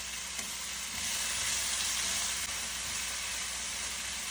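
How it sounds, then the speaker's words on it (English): Curry leaves sautéing in a pan with a sprinkle of salt give a steady, even sizzle and hiss that holds close and constant throughout, slightly swelling midway, with no talking. "Sprinkle some salt to saute them faster."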